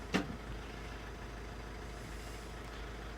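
A 2014 Honda CR-V engine idles steadily while warming up, a low, even hum throughout with a brief louder knock near the start and no talk.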